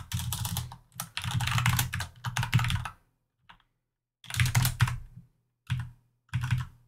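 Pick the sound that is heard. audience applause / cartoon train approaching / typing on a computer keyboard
typing on a computer keyboard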